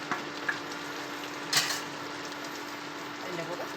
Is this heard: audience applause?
no